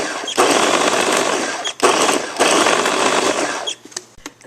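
A baby-food blender pulses peas in loud, steady whirring bursts, with a short pause partway through before it runs again and then cuts off.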